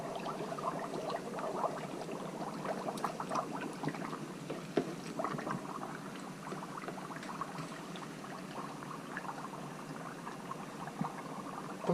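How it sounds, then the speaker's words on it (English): Dry ice gives steady fizzing and bubbling, like liquid at a rolling boil, with small pops scattered throughout at a moderate, close level. "you guys should be able to hear it sounds like it's boiling."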